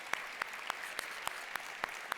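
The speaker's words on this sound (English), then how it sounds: "Please, a big applause to Henri Bava." Audience applause at a plenary session of the IFLA 2019 library conference, a soft, steady patter of clapping from a lecture hall crowd, heard from a distance with a few sharper claps at regular intervals.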